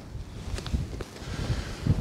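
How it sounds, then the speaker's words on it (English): Low, gusty rumble of wind buffeting the microphone outdoors, uneven and swelling toward the end, with a few faint rustles. "It's pretty windy."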